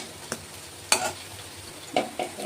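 Masoor dal fritters (bora) fry in oil with a low, steady hiss, broken by a few sharp taps and scrapes of a utensil against the pan; no talking.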